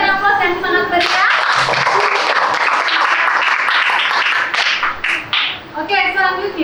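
Audience applause for group performances during a classroom teaching-practice session, a dense sustained burst of many hands clapping close by for several seconds, tapering briefly near the end.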